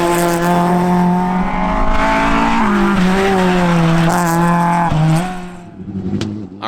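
Rally car on a stage of the Aghadowey round of the RSA NI Winter Series, blasting past close by with a loud, rising engine note. The revs shift through gear changes, the tyres squeal, and the sound fades quickly as the car moves away.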